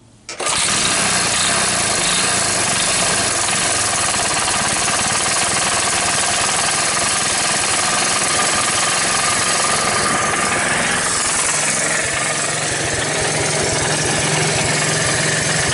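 A vintage 1981 Honda ATC185S ATV engine runs close and loud, starting abruptly and holding a harsh, rattling, steady idle throughout with slight shifts in tone near the end.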